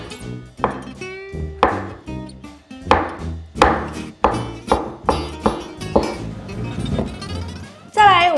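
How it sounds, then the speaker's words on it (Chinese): A knife slices fresh shiitake mushrooms on a cutting board with crisp, evenly spaced thuds roughly twice a second, close and clear over soft background music. "我们现在把鲜香菇切片"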